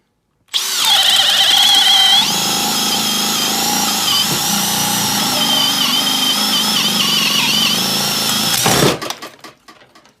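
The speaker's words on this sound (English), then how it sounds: "Now the brushless hammer drill, we're going to probably see it go a lot faster" A brushless hammer drill bores through material at speed 2, starting with a sharp whine, then holding a steady, loud high-pitched motor drone for several seconds before cutting off and spinning down.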